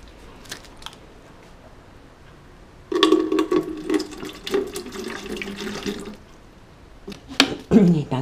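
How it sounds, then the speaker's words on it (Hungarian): Distilled water, about 333 grams, pours into a container for homemade soap making, a steady splashing stream of a few seconds after quiet handling noises, followed by brief clatter. "beleöntjük a desztillált vizet"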